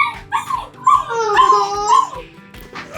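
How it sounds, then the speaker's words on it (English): A new puppy, given as a surprise gift, whimpers up close with a string of high, wavering whines and yips that rise and fall over a few seconds, with no talking. "That is your new puppy."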